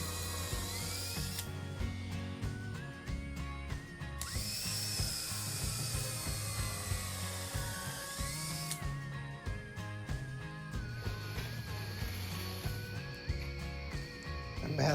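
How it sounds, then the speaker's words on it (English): Power drill boring holes through a wooden frame member and the side of a centerboard case on a Welsford Penguin sailboat build, a faint, steady whir with shifting mechanical tones and no talk. "went and match drilled through the holes that I'd already drilled and countersunk"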